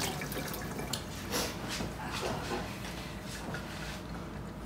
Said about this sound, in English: gotta wash my hands again.